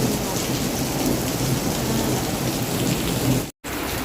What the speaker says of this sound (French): c'est une inondation. On n'a jamais vu ça. Autant de pluie.